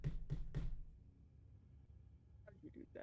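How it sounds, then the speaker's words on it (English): Three sharp knocks rap on a door in quick succession, close and distinct, followed by a quiet room tone and a faint shuffle near the end. "you hear a rapping at the door."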